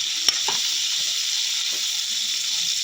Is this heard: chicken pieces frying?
yes